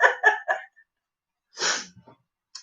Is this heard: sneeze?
yes